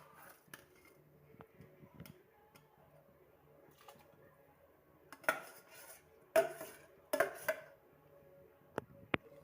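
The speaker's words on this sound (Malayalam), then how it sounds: "ഇനി അതിലേക്ക് നമ്മുടെ കഴുകി വെച്ച നെയ്ച്ചോറിൻ്റെ അരി ഇട്ട് കൊടുക്കാം" Washed ghee-rice grains tipped into a hot pot, heard as a few short bursts of rattling, clattering grains against metal over a quiet background, with no talking.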